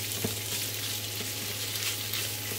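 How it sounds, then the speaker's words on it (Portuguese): Linguiça sausage lightly searing in a pan, an even crackling sizzle with a steady low hum beneath it, close and continuous, with no one speaking. "vou dar uma leve fritada, uma leve selada aqui nessa linguiça"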